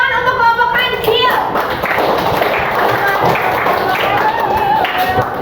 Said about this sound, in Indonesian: Oke, kasih tepuk tangan untuk kelompok kancil.